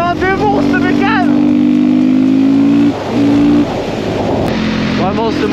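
A MotoMaster supermoto motorcycle engine revs loudly and close, holding a steady high drone with a brief drop and rise, while a voice speaks over it at the start and end.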